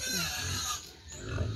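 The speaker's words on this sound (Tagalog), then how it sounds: "Ayan pa yung mga anak ng baboy." Pigs and their piglets on a farm grunt and squeal loudly up close, in a dense ongoing chorus with a voice talking partly over them.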